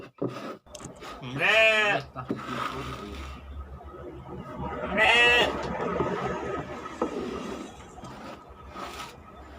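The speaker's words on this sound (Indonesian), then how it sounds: "Kambingnya setia menemani, setia menunggu pakan-pakan berikutnya." Two loud, wavering goat bleats at a livestock feed farm, close by, with quieter rustling and faint background noise between them.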